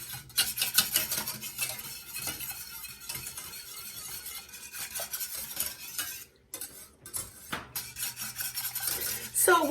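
A chicken and rice casserole is stirred constantly in a pan, with continuous scraping and rasping of a utensil across the bottom and occasional brief pauses and clinks.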